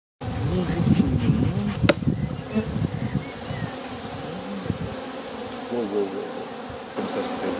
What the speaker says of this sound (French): Il reste une abeille, je vais la faire sortir en douceur.